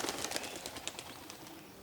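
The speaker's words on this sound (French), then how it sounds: "tu entends le corbeau s'envoler non loin" A crow takes off nearby outdoors in grass, a brief burst of flapping wings and rustling over a busy, noisy background of birds and ambient sound, fading slightly toward the end.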